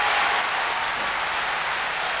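A dense, even wash of outdoor festival applause at Hultsfred in 1991 rewards the singing, sounding like a steady hiss of many hands clapping at once, with no voices on top.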